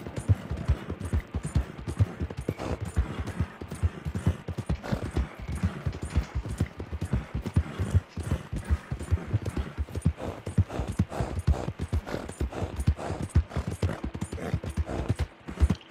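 Horse hooves clip-clop steadily in Red Dead Redemption 2 as a rider heads into a town, a dense, continuous rhythm of close hoofbeats with no talking.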